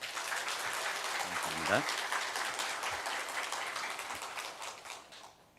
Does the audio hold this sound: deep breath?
no